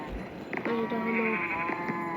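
Sheep on a Minecraft farm in the video game let out a short wavering bleat, close and fairly loud, followed by softer background sounds.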